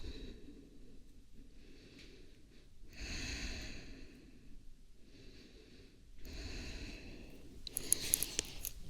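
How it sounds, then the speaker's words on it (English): Soft, close breaths during a yoga practice, slow exhalations and inhalations alternating in long swells, quiet and airy with no talking. "Breath out."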